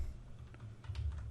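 Rapid keystrokes on a computer keyboard while a file name is typed, a quiet, close run of light tapping clicks over a low hum for the whole moment.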